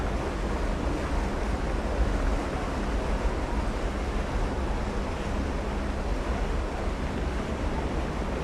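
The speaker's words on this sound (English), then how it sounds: "The wind on our race course has picked up slightly, that crosswind." Steady wind roars across an open rowing race course as a crosswind, a constant broadband rush of wind noise buffeting the microphone alongside water, continuous and fairly loud with no talk.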